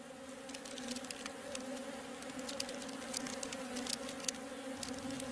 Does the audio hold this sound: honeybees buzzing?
yes